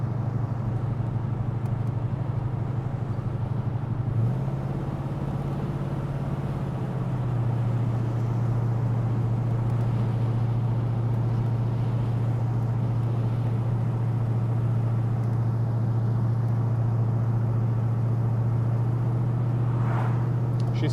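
A Chevelle with a Blueprint 383 engine cruises at about 45 mph, giving a steady deep engine drone heard from inside the car, with one small shift in pitch early on and a constant road rumble.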